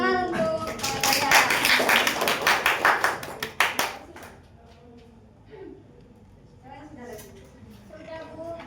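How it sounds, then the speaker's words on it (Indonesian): Students clapping in a classroom, a burst of quick handclaps lasting a few seconds that tapers into quiet, followed by voices talking nearby. "Tepuk tangan untuk saya."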